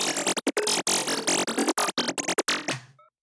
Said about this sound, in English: the first lead in here is lead bells frequencies